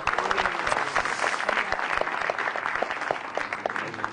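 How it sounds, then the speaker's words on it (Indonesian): An audience at a stand-up comedy show claps and cheers in a full, dense burst of many hands, loud and close, sustained without letup. "Tepuk tangan semua dong."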